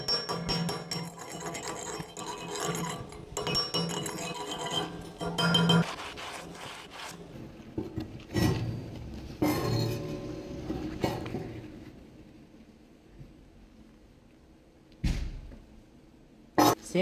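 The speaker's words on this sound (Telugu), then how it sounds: "చిప్పింగ్ కూడా చూపిస్తాను వెల్డింగ్ ఏ విధంగా వచ్చిందో" A hammer chips slag off a fresh weld during fabrication work, giving a series of irregular metallic knocks and scraping taps, close and moderately loud, thinning out toward the end with a couple of final isolated strikes.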